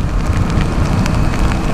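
Rain during a motorcycle ride, a loud close rushing hiss with low rumbling and spattering, steady for a brief moment.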